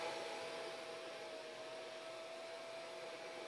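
Hair dryer blowing steadily on ink printed on a towel, a continuous airy whoosh with a faint whine, close and constant throughout with no talking.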